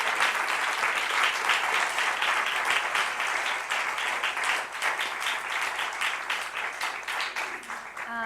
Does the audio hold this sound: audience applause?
yes